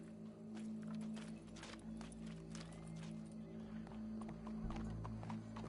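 Horse hooves clip-clop steadily as a rider draws near, a moderate rhythmic patter over a constant low hum, with no talk.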